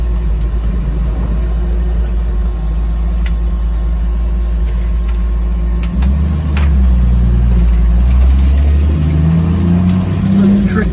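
A 1983 Jeep CJ7 with a manual gearbox being driven, its engine rumbling steadily close by, then the revs rise and the rumble grows louder partway through with shifting engine tones.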